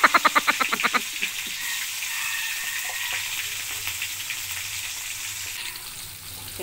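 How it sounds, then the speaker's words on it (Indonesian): Sliced shallots fry in oil until golden, giving a continuous close sizzle. A quick run of loud rhythmic knocks opens it, then a softer hiss continues with occasional light stirring taps. "Oke, kita goreng sampai harum, sampai kuning."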